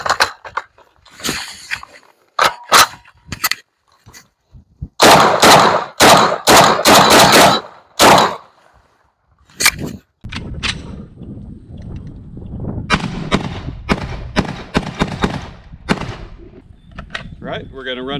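Shotgun firing 3-inch number 4 shot shells outdoors, a series of sharp, loud blasts in quick succession with short gaps, followed by quieter handling noises and people talking.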